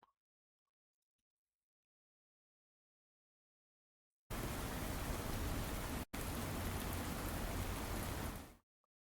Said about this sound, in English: I was thinking maybe we could add rain.